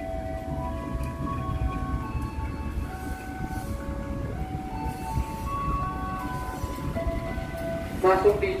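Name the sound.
local train with LH locomotive entering Kerenceng station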